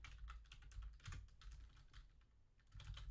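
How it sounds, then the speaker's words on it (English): Steady close typing on a computer keyboard, rapid soft key clicks in uneven bursts with brief pauses, fairly quiet and with no voice over it. "And so I'm going to type in dribble,"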